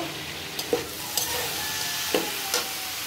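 Potato and bottle gourd peel fry in oil with panch phoron, a faint steady sizzle broken by a few short clinks and stirring knocks, with no voices.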